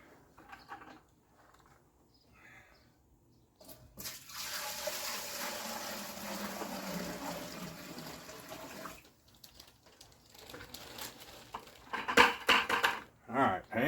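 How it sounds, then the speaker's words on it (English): Water is poured into a pot over a flame for apricot moonshine mash, a steady close splashing stream lasting several seconds, followed by clanking pot sounds and brief speech. "And let's pour the water in."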